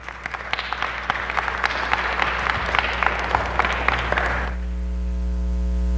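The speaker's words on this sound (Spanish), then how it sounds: "De ese aplauso con ánimo." A church congregation breaks into lively applause, dense overlapping claps building steadily for several seconds before cutting off abruptly, leaving a low steady hum.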